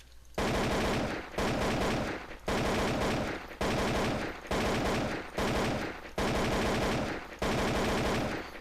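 Short bursts of automatic fire from a gun in a video game, tapped out in about seven quick, evenly spaced volleys with brief silences between them. Loud and close, with no talking.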